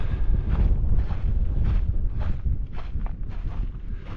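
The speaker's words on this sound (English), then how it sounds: "It's rather windy around here." Strong wind buffets the microphone on a cliffside hiking trail along the Santorini caldera, a loud low rumble with gusty surges and faint footsteps underneath.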